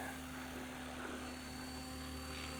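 A SAB Goblin Buddy 380 RC helicopter spins up to full head speed on its maiden flight, a steady whining drone with a fixed tonal hum, held evenly at a moderate distance with no talk.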